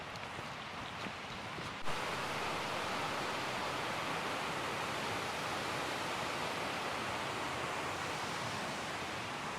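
A waterfall at Mossman Gorge roars in a dense, continuous rush of falling water that holds steady and loud, following a brief quieter moment at the start.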